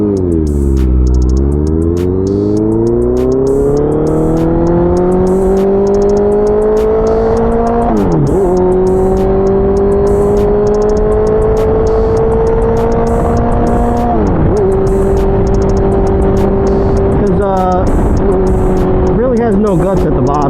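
A Honda CBR650F motorcycle engine pulls strongly while riding, its pitch climbing through the gears with a few shifts, loud and close, with a rider talking over the engine noise.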